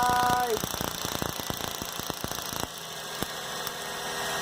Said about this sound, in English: you can also hear the engine RPM rises as the gas is jumping through